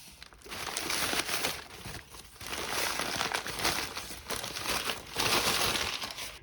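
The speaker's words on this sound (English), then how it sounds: "So let me remove this paper." Paper wrapping being pulled off and crinkled inside an iPod Nano 3rd generation box, a close, steady rustling and crackling in uneven bursts with no talking.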